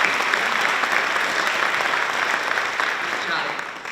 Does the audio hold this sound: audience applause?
yes